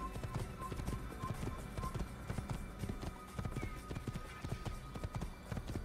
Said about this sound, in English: there's a horsey, and this is Damascus